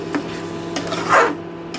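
A utensil stirs masala through okra in a pan, giving short scraping rubs and a brief louder sweep near the middle, close and alone.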